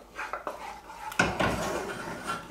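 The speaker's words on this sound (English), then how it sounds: "Just gonna stir this up a little more to get that cheese melted" A spoon stirs Polish sausage soup thick with melting cheese in a pot, giving close clinks and scrapes against the metal and then a denser, continuous stirring sound, with a brief sharp knock partway through.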